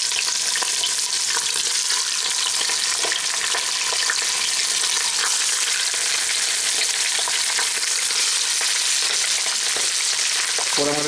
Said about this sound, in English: we're just going to cook it on here for a little bit to brown up that skin